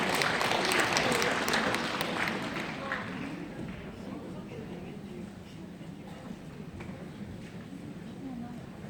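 A seminar audience applauds loudly at first, then the clapping thins and fades into a murmuring crowd with voices underneath.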